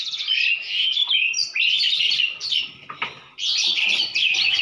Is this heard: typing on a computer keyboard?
no